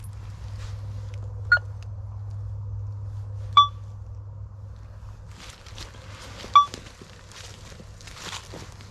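Tarsacci MDT 8000 metal detector sounding over coins and a horseshoe: three short, sharp electronic beeps about two seconds apart, heard above a steady low hum and light outdoor rustling.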